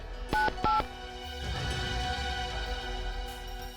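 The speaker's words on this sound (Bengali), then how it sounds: "দয়াকে ফোন করে বলে দিই যে আমি কোথায় আছি।" Two short, clear dial tones ring out as a number is keyed on a mobile phone, followed by faint ambient hum in a quiet room.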